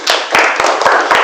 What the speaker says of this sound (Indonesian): tepuk tangan dulu untuk Abraham